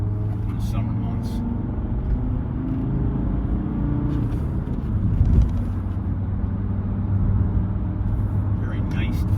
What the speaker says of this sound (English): Very nice, tight driving car.